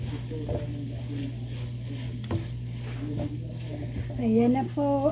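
Adobong kangkong with pork is stirred in a pan, soft scraping strokes over a steady sizzle, with a voice speaking in the background and a louder clatter near the end.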